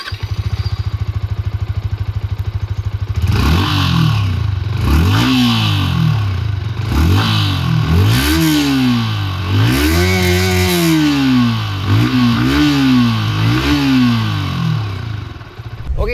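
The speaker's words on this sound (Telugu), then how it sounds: "ఈ బైక్లో ఎగ్జాస్ట్ నోట్ ఎలా ఉందో ఒకసారి చూద్దాం మనం" A Yamaha R15M V4 carbon fiber edition motorcycle starts from idle, then its exhaust rises and falls through a series of sharp revs, loud and close, each blip climbing in pitch before dropping back.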